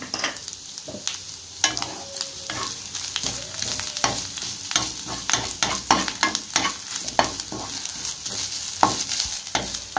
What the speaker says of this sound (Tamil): மீதி இருக்கிற நெய்லேயே ஒரு 1/4 கப் அளவுக்கு தேங்காய் துருவி வச்சுருக்கேன், அதை இதில் சேர்த்துக்கலாம். இதையும் நல்லா பொன்னிறமாக வறுத்து எடுத்துக்கலாம்